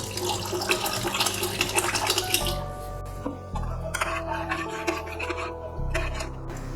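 Water poured from a vessel into cooked lentils in a pot for hotel-style sambar, a steady close pour with splashing and a few clinks of metal cookware, no talk.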